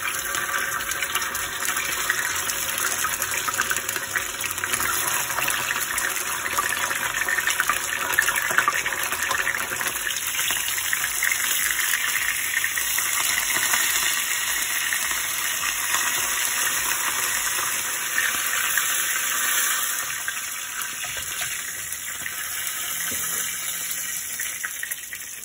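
A steady, loud hiss and crackle of fish pan-frying in hot oil runs continuously, sizzling evenly throughout with no talking.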